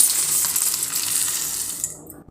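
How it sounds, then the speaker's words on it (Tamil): Peanuts tipped into a mixer grinder jar make a close, loud rattling clatter of many small hard pieces hitting the container, tapering off into near silence. "இப்போது நான் வந்து இந்த வேர்க்கடலையை மிக்சி ஜாரில் போட்டுக்கிறேன்"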